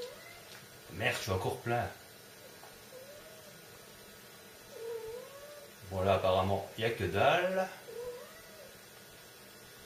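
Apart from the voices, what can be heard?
cat in heat caterwauling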